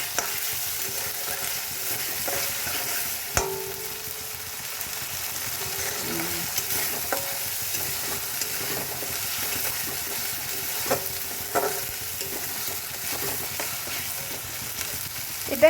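Egg korma masala with green chillies fries steadily in oil, releasing oil in a low continuous sizzle with a few faint utensil knocks, close and fairly quiet, no talking.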